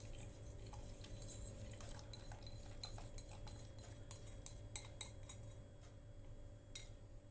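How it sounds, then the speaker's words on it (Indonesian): A spoon stirs a hunkwee flour mixture blended with Milo solution in a bowl, giving steady scraping and light metallic clinks against the rim over a constant low background hum, with no voices. "Kemudian kita aduk biar tercampur rata."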